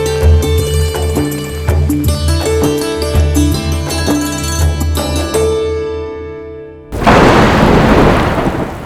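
After a stretch of music, a sudden loud wash of heavy rain with deep thunder rumble breaks in and fills the last couple of seconds.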